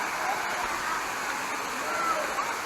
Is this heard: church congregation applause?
no